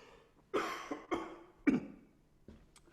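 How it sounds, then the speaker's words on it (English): Three harsh, raspy coughs close by, spaced about half a second apart, followed by a softer throat noise in a quiet room. "Somebody started coughing"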